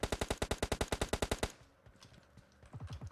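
Rapid automatic gunfire from PUBG Mobile, a loud close burst of about fifteen evenly spaced shots, then quieter scattered noises and a voice speaking.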